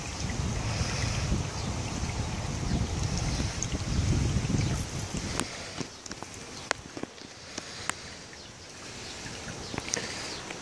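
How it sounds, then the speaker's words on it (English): Two pumps recirculating water through a homebrew HERMS brewing system, a steady broadband rushing and churning of flowing water that runs throughout, heavier in the first half, with a few faint clicks later. "two pumps running"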